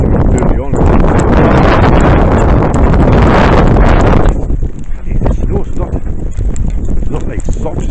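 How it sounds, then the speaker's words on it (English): Strong wind gusts roar against the microphone during a March 2017 New York City blizzard with hard, pellet-like snow. Loud buffeting rumble eases partway through into a gustier, lighter rush. "that wind's blowing into you"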